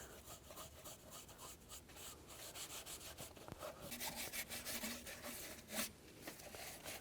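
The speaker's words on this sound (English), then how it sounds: "Just gonna clean up this area. Just use a little brake parts cleaner" A rag rubs and wipes repeatedly across the engine area of a 2003-13 Toyota Matrix while brake parts cleaner is used, a faint close scrubbing sound with a brief spray-like hiss.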